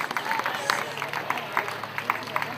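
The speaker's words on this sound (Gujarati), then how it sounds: "ઝડપથી, જાજીબધી અને અવિરત તાળીઓ ચાલુ રાખો." An audience claps at a village award ceremony for the Gramratna award in Mota Devadiya, Gujarat. The applause is steady and moderately loud, with a voice faintly present beneath it.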